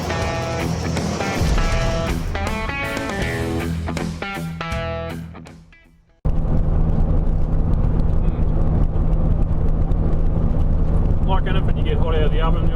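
A car motoring along the road toward home from Menindee, with a steady, loud road and engine rumble that fills the second half after an abrupt break from busier, louder sound.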